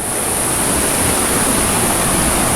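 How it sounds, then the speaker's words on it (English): Loud, steady roar of rushing water from a nearby waterfall, a dense continuous wash with no breaks. "Listen to that water."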